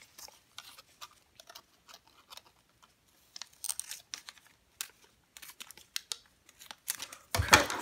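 Scissors snipping through folded origami paper for a panda face, a quiet run of short, close crisp cuts and crinkles with gaps between them, ending in a louder rustle of paper; no talk.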